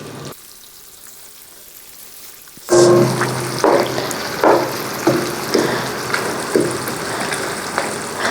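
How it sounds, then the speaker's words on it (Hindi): Boiled water goes into a pan of simmering quail korma with curry leaves, starting a loud sizzle and bubbling after a quiet moment, followed by repeated stirring scrapes and hisses. "हम पानी उबला हुआ शामिल करते हैं इसमें।"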